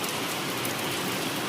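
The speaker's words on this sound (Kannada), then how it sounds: "ಒಂದು ರೇಂಜಿಗೆ ಮಳೆ ಬರ್ತಾ ಇದೆ ಇವತ್ತು" Heavy rain falls on a farm in the evening, making an even, continuous hiss that stays steady and moderately loud for the short stretch, with no talking.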